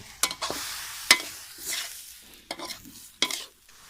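Eel meat being stir-fried in a wok with sauce and curry paste, sharp spatula scrapes and tosses over a steady sizzle, several distinct strokes spaced through the passage, close and fairly loud with no talking.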